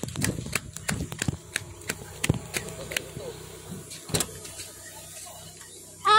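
People climb into a car at the Taman Eko Rimba Komanwel resort, making scattered clicks, knocks and door and seat thumps. A louder door slam comes at the end, with faint voices in the background.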